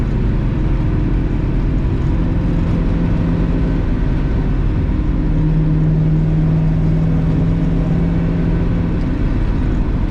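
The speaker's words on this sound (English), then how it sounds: "I also still love the sound of a V8." A Ford Mustang Fastback's V8 engine rumbles low and steady while driving, a continuous deep drone with no voices.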